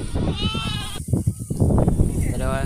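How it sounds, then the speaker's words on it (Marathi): Lambs in a herding flock bleat loudly and repeatedly on seeing the returning ewes, with overlapping cries close by amid a noisy, crowded scene. "मेंढ्यासनी बघून पिल्लं ओरडत आहेत"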